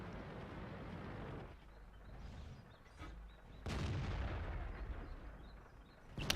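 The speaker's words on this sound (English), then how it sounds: "we're able to shoot the lower plate of the mouse" Tank cannons fire and strike a Mouse super-heavy tank in World of Tanks, giving several sharp booming shots and impacts with ringing decay, moderately loud against a low battle rumble.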